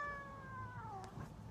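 A single cat gives a drawn-out meow that slides downward in pitch, faint and fairly close, followed by a brief soft trill at the end, with no talk over it.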